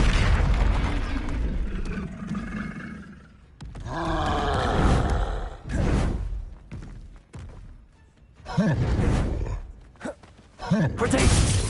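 Blasting-spell explosions in Hogwarts Legacy, with loud booming bursts and roaring rumbles arriving in several waves amid game combat noise and shouted voices.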